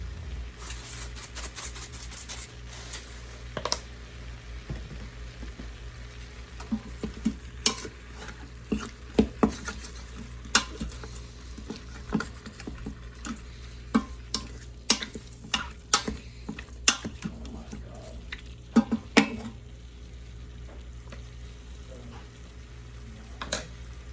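Seasoned meat with pepper and Montreal steak seasoning browns in an Instant Pot, a low steady sizzle broken by scattered clicks and scraping stirs, with sharper bursts of activity clustered midway.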